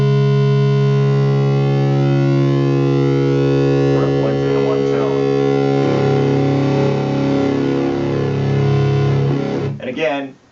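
A Korg King Korg synthesizer plays a sustained, aggressive modulated oscillator tone, buzzy and harmonically dense like FM synthesis, holding a steady pitch, shifting timbre midway and stopping abruptly near the end.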